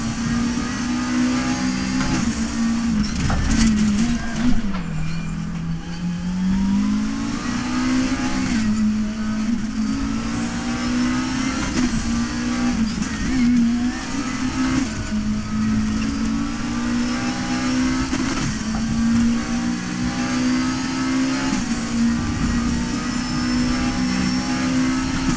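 GT3 race car in the RaceRoom racing game, its engine droning loud and continuous throughout with rising and falling revs through gear changes and corners, no voice over it.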